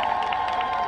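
A large rally crowd bursts into clapping and cheering for Odisha Chief Minister Naveen Patnaik, a brief, loud, dense wash of applause and voices with no single speaker standing out.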